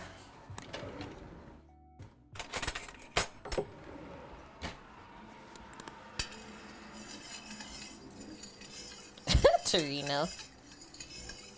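Close, uneven utensil scrapes and clinks from stirring a pan of porcini mushrooms with sheep's milk, in short bursts with gaps, with a brief spoken word and a sharp, loud knock near the end.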